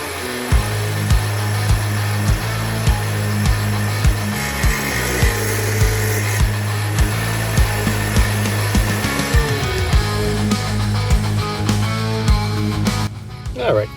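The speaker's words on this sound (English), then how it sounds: "it looks like it's thin enough to get underneath the tile saw now" A tile saw cuts steadily through fossil-bearing rock during trilobite preparation, its motor drone loud and continuous with repeated clicks and shifts in pitch as the blade bites.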